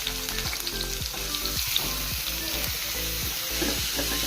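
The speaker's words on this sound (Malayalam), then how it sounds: "നമുക്ക് അരിഞ്ഞു വെച്ചിരിക്കുന്ന പടവലങ്ങ ഇട്ട് കൊടുക്കാം." Chopped snake gourd sizzling in hot coconut oil in a pan, a loud, continuous close-up fry with rhythmic stirring scrapes repeating throughout.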